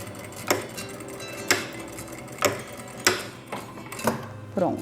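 A sewing machine backstitches a seam on a fabric pad holder, giving short mechanical bursts at regular intervals of about one second over a low background hum, close and moderately loud.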